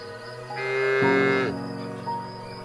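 Cattle low on a farm, with one long drawn-out moo that swells and then fades, heard on its own without any talk.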